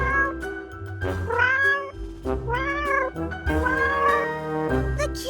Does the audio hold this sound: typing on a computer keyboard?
no